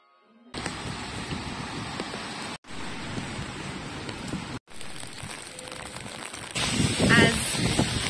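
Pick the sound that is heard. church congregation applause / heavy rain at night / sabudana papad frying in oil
heavy rain at night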